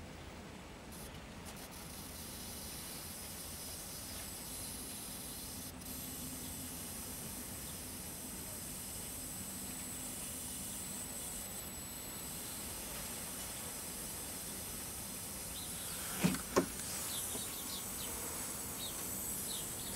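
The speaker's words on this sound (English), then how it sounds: "Some high voltage squealing and arcing here." A 1974 GE portable hybrid color TV gives off a steady, faint high-voltage squeal and hiss, broken near the end by a couple of sharp arcing snaps.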